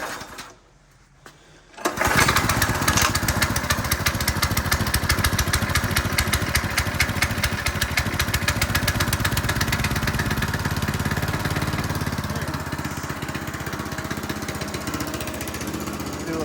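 A TrailMaster MID XRS go-kart's small engine fires up after a short quiet moment and runs steadily at a loud, buzzing idle, close by, with its pitch settling slightly lower toward the end and no talking over it.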